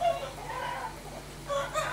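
Chickens clucking and a rooster crowing in a rural Thai setting, moderately loud and continuous, with faint human voices mixed in the background.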